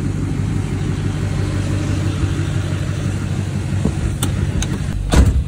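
A car drives along at a steady pace, its engine and road noise forming a continuous near rumble, with a couple of brief clicks toward the end.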